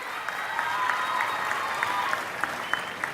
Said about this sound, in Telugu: గట్టిగా చప్పట్లు కొట్టి అభినందించండి